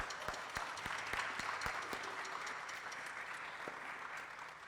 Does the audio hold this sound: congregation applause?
yes